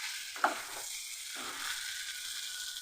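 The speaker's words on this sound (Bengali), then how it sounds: "মশলার মধ্যে সব আলু পটল ভালো করে কষিয়ে নিলাম" Fried potatoes and pointed gourd are tossed in spice paste in a pan, giving a soft continuous sizzle with a couple of brief scraping stirs, fairly quiet and close.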